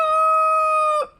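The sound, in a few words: rooster crowing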